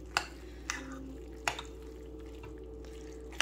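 A spoon stirring melty creamy corn in a slow cooker, a few soft scattered clinks and wet squishes spread across a few seconds over a steady low hum.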